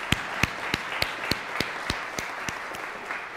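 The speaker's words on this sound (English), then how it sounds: "Let's give our cast of characters a round of applause" A church congregation applauds the cast of characters at a service. Steady, evenly spaced claps ring out over a soft wash of wider clapping for a few seconds, with no talk.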